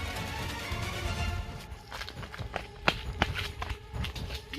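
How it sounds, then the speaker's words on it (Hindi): Quick footsteps of people running away on the ground, a rapid uneven patter of steps at moderate distance over a steady background hum, with no talk. "पैरों की आवाज हो रही है, यहाँ से जल्दी भागो"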